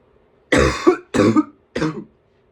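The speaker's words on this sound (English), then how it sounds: "So if I cough, that's why." Three separate coughs, loud and close, from someone who is sick, each a harsh burst with a short gap between them.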